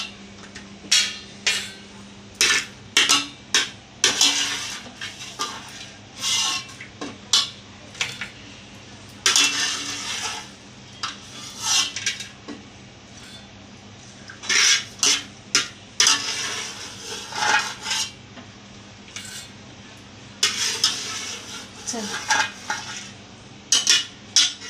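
Fried coconut scooped from a pan of oil onto a plate for poha chivada, with repeated metal spoon scrapes and clinks in uneven bursts over a faint sizzle.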